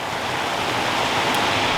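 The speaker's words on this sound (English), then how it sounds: "there's a bit of a waterfall right there" Steady, dense rushing of a small waterfall and little rapids in a mountain stream running high with snowmelt, heard close up as continuous broadband water noise with no voices.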